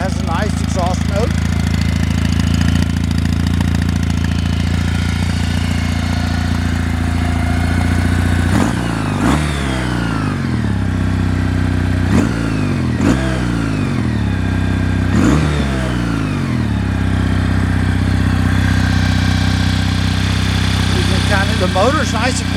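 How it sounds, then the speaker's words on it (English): A 2020 Kawasaki W800 motorcycle idles at about 1500 RPM with a steady, low, throbbing exhaust note and a slight mechanical whir running underneath, while someone talks over it throughout. "So it's idling about 1500 RPMs. But you can hear that exhaust."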